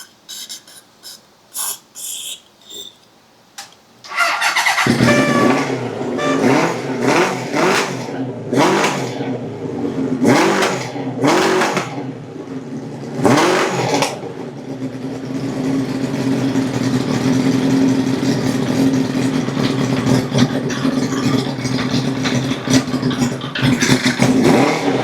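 A Honda CB750 motorcycle engine in need of repair starts after a few seconds of clicks and cranking, then revs up and down in several loud bursts before settling into a steady, rough idle close by.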